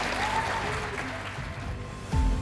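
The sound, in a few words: audience applause welcoming a speaker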